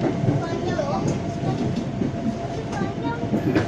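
A KRL commuter train on the run toward Jakarta Kota heard from inside the carriage, a steady close rumble and rattle of wheels on rails with faint squeals throughout.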